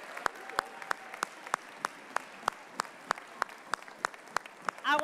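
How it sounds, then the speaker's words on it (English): Scattered, sparse clapping from a school community audience honoring parents and community members, individual claps spaced out in an uneven rhythm, fairly quiet with a faint murmur and a brief tonal squeak near the end. "I want to give you a round of applause"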